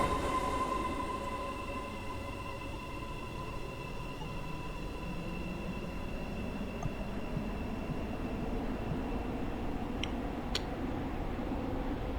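Steady rumble of a train running in the game SCR (Stepford County Railway), with sustained tonal hum and rail noise throughout, alone without talk.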